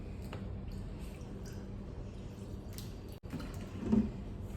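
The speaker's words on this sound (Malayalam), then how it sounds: "ഈ സാധനത്തിന് കുറച്ച് വെള്ളം ഒഴിക്കുന്നുണ്ട്" Water is poured into a pot for making tea, a steady, even splashing hiss close by, with a small bump near the end.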